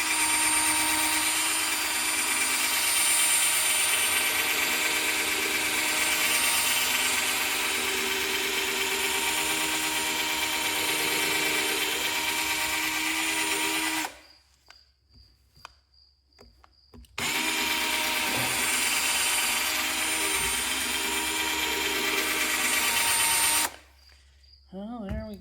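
A drill runs steadily while polishing a plastic car headlight with a cheap restoration kit, loud and continuous with two short stops, then restarts before cutting off at the end.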